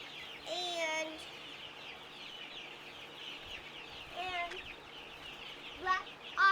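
Chickens cluck on a farm, including Buff Orpington, Black Australorp and Barred Rock hens, with short rising calls in a few bursts. A faint voice speaks underneath.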